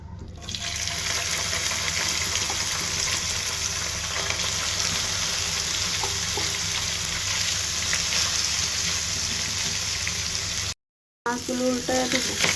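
Marinated fish frying in oil in a frying pan gives a steady, dense sizzle that runs almost unbroken, cutting out briefly near the end before resuming.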